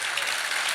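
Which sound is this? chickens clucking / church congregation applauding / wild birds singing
church congregation applauding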